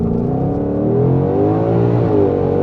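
A 2020 Ford Mustang GT500 on drag radials accelerates hard, its engine note climbing in a loud, close, continuous roar with rising harmonics and no voices.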